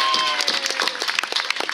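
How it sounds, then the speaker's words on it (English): Outdoor ceremony audience breaks into brisk, dense applause, many hands clapping close together at steady loudness through the short burst. "so here's a big round of applause for Kay."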